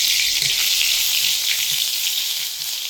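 Hot oil sizzles loudly and steadily as garlic paste and spices are added, a dense continuous crackling hiss that tapers slightly at the end.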